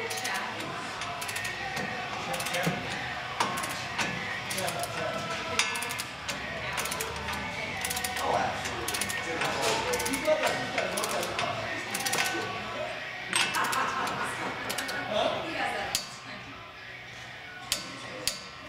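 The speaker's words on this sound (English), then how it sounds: "You're going to want to go ahead and set your torque wrench" A torque wrench tightens the nut on a replacement wheel hub, giving a run of sharp metallic clicks and clinks at close range, with someone talking over the work throughout.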